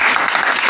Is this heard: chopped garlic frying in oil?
no